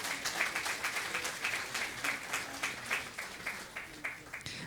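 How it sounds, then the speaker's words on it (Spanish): Congregation applause at a New Year church service, many hands clapping in a rhythmic, roughly synchronized beat at moderate distance, with faint voices underneath. "Fuerte los aplausos."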